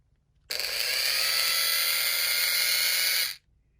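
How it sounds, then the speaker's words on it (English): A number 58 drill bit spins up abruptly in a small drilling machine, holding a steady high-pitched whine for about three seconds before stopping cleanly. "I put the drill that I use for my track in this machine"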